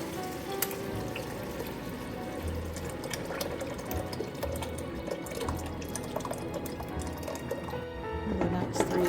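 Broth is poured from a pot over carrots in another cooking pot while making a gluten-free beef "barley" dish, a steady close splashing and trickling of liquid lasting several seconds.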